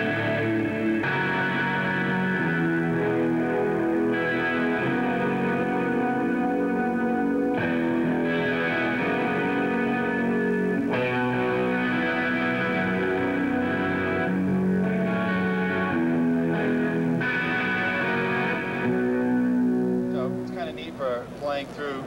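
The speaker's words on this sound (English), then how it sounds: "Like a chorus and delay and reverb type sound" Electric guitar run through chorus, delay and reverb effects at a trade show booth, playing sustained, shimmering chords in a full, continuous wash of sound that swells and rings out toward the end.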